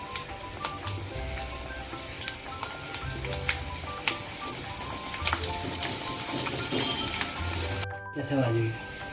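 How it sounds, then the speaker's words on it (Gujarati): Peanuts frying in oil on a high flame, a continuous busy sizzle with crackles throughout and a brief clatter near the end, a voice talking over it. "સિંગદાણા આની અંદર જ રાખવાના અને ફ્રાય કરવાના. એ પણ હાઈ ફ્લેમ ઉપર જ રાખવાનું."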